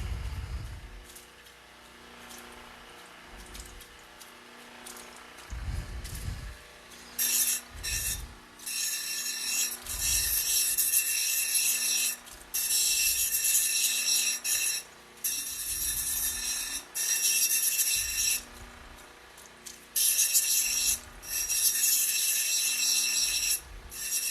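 Opal gemstone being cut and ground on a lapidary wheel, a steady loud rasping grind broken by short pauses and repeated bursts as the stone is pressed to the wheel and lifted away, with no talking.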